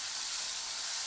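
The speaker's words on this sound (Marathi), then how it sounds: "आता बटाटे टाकायचे याच्यामध्ये, बटाट्याला चांगलं परतून घ्यायचं।" Potatoes sautéing with ginger and garlic in a pan for an aloo val bhaji, giving a steady, close sizzling hiss throughout with no voices.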